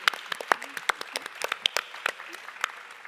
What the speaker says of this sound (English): If you'd please join me in a round of applause.